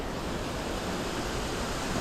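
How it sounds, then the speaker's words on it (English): A small waterfall in the Belding Wildlife Management Area, Vernon, makes a steady, even rush of falling water, soft and continuous with no other sounds over it. "Ooh, never seen the waterfall."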